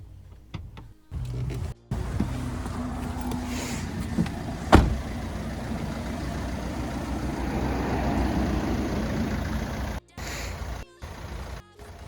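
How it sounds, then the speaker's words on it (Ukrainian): A 2015 Renault Trafic van engine with 250,000 km on it runs steadily at a low rumble for several seconds, heard from outside, framed by brief clicks and pauses at the start and end. "послухайте, як працює сам двигунчик з надвору"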